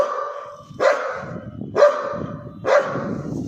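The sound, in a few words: Belgian Malinois dog barking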